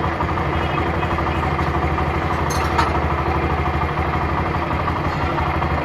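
A 70cc motorcycle engine idles during carburetor air-fuel jet adjustment with a steady, throbbing putter, close and constant, with a brief metallic clink partway through.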